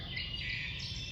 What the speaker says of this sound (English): I hear a wood thrush in there.